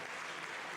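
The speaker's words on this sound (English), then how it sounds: "Big cheers and lots of clapping" Clapping and cheering in the Jupiter control room after an Ariane 6 rocket launch, a brief, dense wash of applause heard at a distance.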